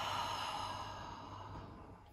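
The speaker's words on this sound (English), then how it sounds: "And a deep breath out." A single deep breath out during a guided finger-breathing exercise, a soft, close, airy exhale that fades gradually over about two seconds, with no talking.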